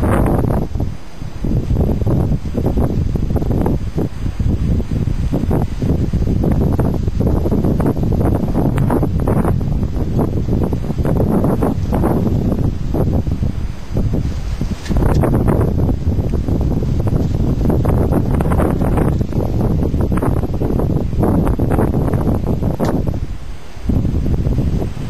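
Strong spring wind in Edmonton, Alberta roars and buffets the microphone in continuous heavy gusts, with rustling foliage underneath and no letup.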